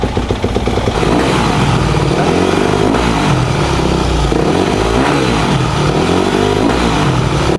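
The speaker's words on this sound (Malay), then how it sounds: "Mari kita start dulu. Kau dengar bunyi enjin dia Don," A motocross motorcycle engine, an inexpensive secondhand bike, fires up and settles into a loud, close, throaty idle with rough irregular pulsing and clattery mechanical noise throughout.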